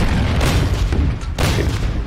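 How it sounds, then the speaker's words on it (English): A BF-110 strafes anti-aircraft guns in the WWII strategy game Order of Battle, heard as loud, booming bursts of gunfire and impacts in two heavy rolling waves. "Continue strafing those anti-aircraft guns as well."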